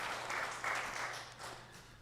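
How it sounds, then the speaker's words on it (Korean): A church congregation at a Sunday live service claps to welcome visiting deaconesses; a short burst of soft, fairly distant applause that swells and fades within two seconds. "우리 박수로 환영하겠습니다"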